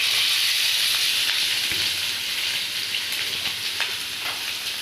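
Onions sizzling in a hot pan for an egg omelette, a steady broadband frying hiss throughout with occasional soft stirring scrapes, close and fairly loud.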